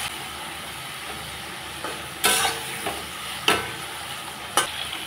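Ridge gourd, turmeric powder and salt dropped into a hot pan with slit green chillies, giving a steady low sizzle broken by three sharp bursts of frying and stirring, with no voices.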